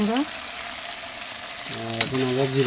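Ginger paste, garlic paste and green chillies frying in a pan give a strong sizzle and stirring, joined by faint tonal sounds, with no one speaking.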